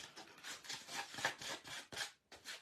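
Sandpaper rubs on the corners of a wooden popsicle stick in quick, close, scratchy strokes, about a dozen soft rasps in a brisk uneven rhythm.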